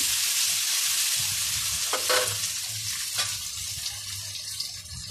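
Potatoes rubbed with salt and turmeric fry in a pan with a steady, close hiss of oil, broken by a couple of short stirring scrapes; no voices.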